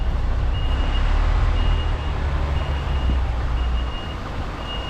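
A truck reversing straight into a yard, its backup alarm beeping at a steady, even pace over a constant low engine rumble and street noise.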